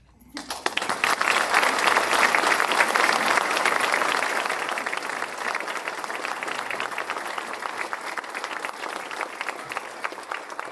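Audience applause at a community accelerator and childcare initiative ribbon cutting in Kansas, steady dense clapping that rises quickly, peaks early, then eases slightly while continuing at a full, even level to the end.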